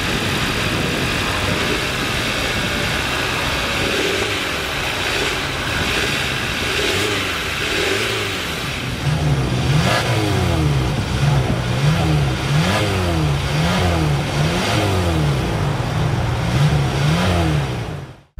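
The 2.5-liter four-cylinder engine of a 2022 Hyundai Tucson idles and then revs repeatedly in rising and falling swells. It is loud, close and steady throughout, with no talking.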